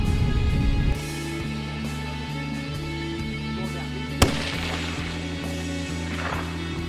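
A single sharp, loud gunshot fired at a black bear during a hunt in Canada, a distant crack partway through against steady outdoor background noise, with no talking.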